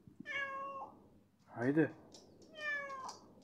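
A tom cat gives three distinct, close meows, each rising and falling, spaced about a second apart, while a person speaks softly between them.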